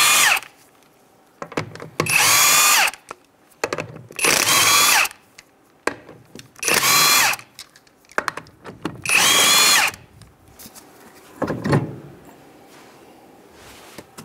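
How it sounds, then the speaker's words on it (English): Impact wrench spinning off the 19mm lug nuts from the rear wheel of a 2005 Honda Element, four loud roughly one-second bursts with short pauses between them, then a shorter, fainter burst to finish. "I'll go ahead and take these lug nuts off."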